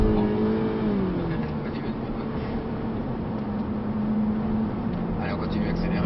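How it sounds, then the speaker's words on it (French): A Seat Leon 3 accelerates hard on the Lohéac race circuit, its engine a steady, loud interior drone that climbs in pitch, under an instructor's talk. "Allez, on continue à accélérer, on continue encore."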